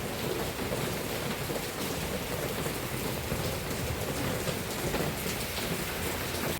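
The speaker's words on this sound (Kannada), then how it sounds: "ಮಳೆ ಮಾತ್ರ ತುಂಬ ಜೋರಿದೆ" Heavy rain pours down steadily, a dense, loud roar of drops hitting surfaces throughout with no pauses or voices.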